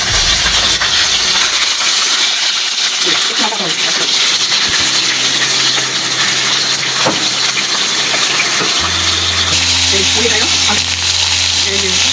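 Chicken fries in hot oil with salt, turmeric and spices, giving a loud, steady hiss throughout while someone talks over the cooking.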